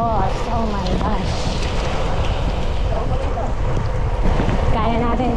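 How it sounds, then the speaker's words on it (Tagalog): Heavy rain pours while cycling, heard with strong wind buffeting the microphone in a loud, constant roar, with a voice faintly audible underneath. "Sobrang lakas na po ng ulan,"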